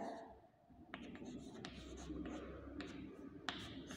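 A pen moves across a card in quiet scratchy strokes, with a few sharper ticks where the tip lifts and lands, close and soft over a low background hum.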